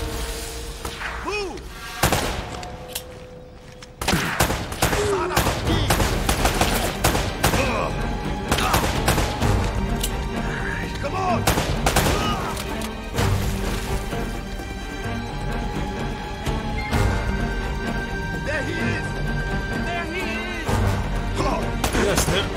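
Rapid bursts of gunfire in Uncharted: Drake's Fortune, with loud repeated shots and thumps running almost continuously through the stretch, some sharp single cracks among dense volleys.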